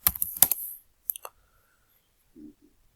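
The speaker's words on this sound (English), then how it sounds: "I'm just going to type in here affiliate marketing because that's what I'm interested in." A short burst of close keystrokes on a computer keyboard, a quick flurry of clicks followed by a few isolated taps and then near silence.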